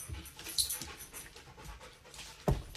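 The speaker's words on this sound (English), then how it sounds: "Here comes my dog." A dog panting softly as she arrives home, with quiet breathy rhythmic puffs and a couple of brief louder bumps near the end.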